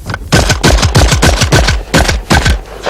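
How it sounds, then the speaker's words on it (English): A Benelli shotgun fires a fast, loud run of close blasts outdoors, breaking thrown clay targets in quick succession with almost no pause between shots. "There's 7 clay targets with a Benelli shotgun."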